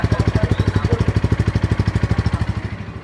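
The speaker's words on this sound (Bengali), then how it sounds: "এই বাইকের এক্সজস্ট সাউন্ডটা শুনেন।" The exhaust of a Bajaj N160 motorcycle, loud and close, with a fast, even pulsing throb at idle that holds steady and then softens slightly toward the end.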